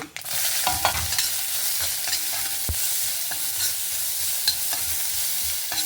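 Onions dropped into hot tempering oil fry loudly in a pan, a dense continuous sizzle and crackle close up, with occasional scrapes and taps of a spoon being stirred through.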